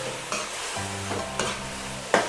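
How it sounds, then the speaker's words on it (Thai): Soy sauce mixture with dark soy sauce, seasoning and a splash of water being stir-fried for a steamed sea bass sauce, giving a soft steady sizzle broken by a few short scraping stirs of the spatula. "ผัดให้เข้ากันค่ะ เติมน้ำด้วยกันนิดนึง ผัดแค่พอสลบก็พอนะคะ"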